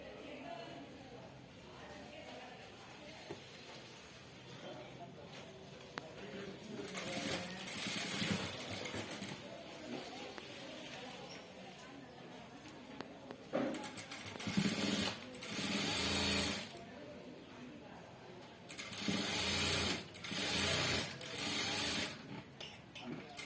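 Sewing machine stitching a blouse seam in short, irregular bursts of rattling mechanical whir, fairly faint, with someone talking over and between the runs.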